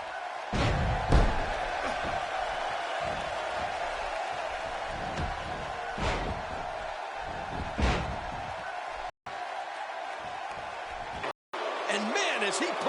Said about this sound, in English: The crowd is absolutely electric right now, and I can't blame them.